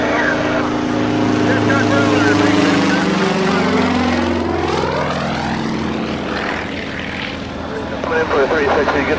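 At an air show, propeller planes of the Twin Tigers team drone loudly overhead, and their engine pitch sweeps up and down as they pass, mixed with the roar of the Shockwave jet truck racing them. An announcer talks over the noise throughout.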